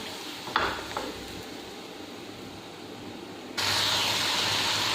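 Metal spoon scraping and clattering in a pot at first, then a steady loud sizzle as chicken korma paste with yogurt fries, with no voices.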